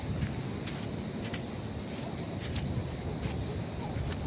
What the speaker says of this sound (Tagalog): Di lagi ni magkusog kay hangin.